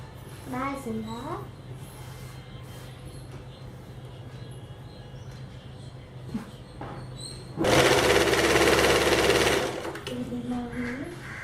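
An electric sewing machine stitches a 1/4-inch seam around a blouse lining, running in a loud, fast, steady whir for about two seconds in the middle. Someone talks before and after it, and a low background hum continues throughout.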